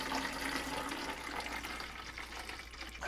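Water pours steadily into a plant pot, a continuous close splashing flow lasting about three seconds with no voices.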